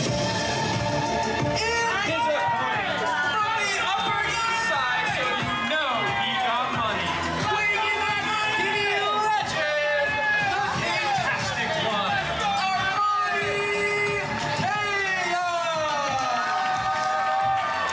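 A lively wrestling crowd cheers and chatters for wrestler Armani Kayos, a loud, sustained roar of voices and whoops with shouting individuals rising above the babble throughout.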